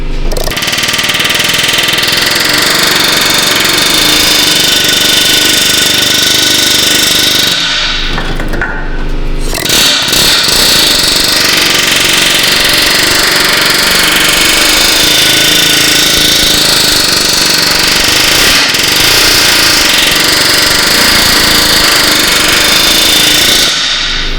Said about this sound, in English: Kind of massage it a little bit with the air hammer, gets the big chunks off.